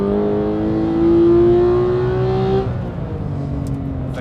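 A new manual Porsche 911 GT3 engine rising in pitch as the car accelerates on track, a loud, near, steady climbing note for about two and a half seconds before easing to a lower drone.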